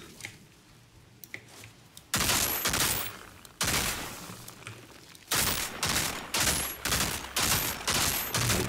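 Assault rifle fire in the video game Outriders, loud sustained bursts of rapid automatic shots in several long volleys with short gaps, preceded by fainter distant shots.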